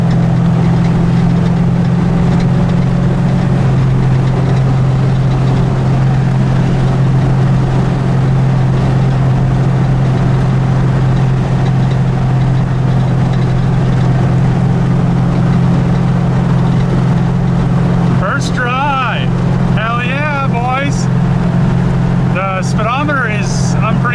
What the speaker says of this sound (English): She's driving and idling quite a bit better.